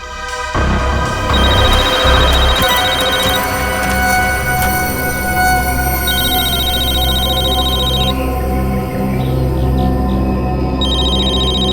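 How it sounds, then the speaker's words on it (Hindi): A telephone rings with a repeating electronic tone over a steady low hum, continuing loudly and evenly throughout. "सर फोन रिंग हो रहा है।"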